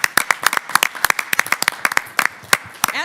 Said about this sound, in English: Everyone give him a huge round of applause.